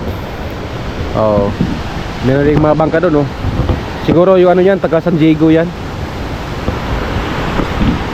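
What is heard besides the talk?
strong sea waves on the shore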